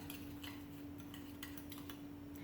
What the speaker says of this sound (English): I'm going to take my spoon and I'm going to stir this mixture up.